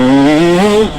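A KTM 150 SX two-stroke dirt bike engine revs loud and close, its buzzing pitch climbing steadily through a single rising pull before cutting off abruptly near the end.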